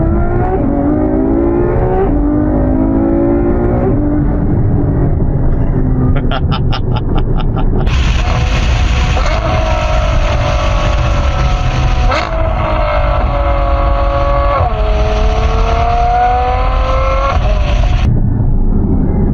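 Loud Ferrari F12 Berlinetta engine revving hard through several gears, each rising howl broken by quick shifts, close and continuous.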